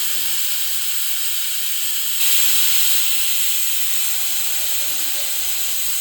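A pressure cooker on the stove, cooking beef, hisses steam continuously, growing louder partway through and holding a steady, nearby rush.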